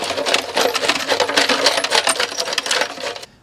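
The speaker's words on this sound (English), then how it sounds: "I managed to shake all the stuff out, the hardware out." Loose metal hardware rattles and clinks as it is shaken out of a 1975 Kawasaki KE125 motorcycle gas tank, a close, dense rapid jingling that stops abruptly at the end.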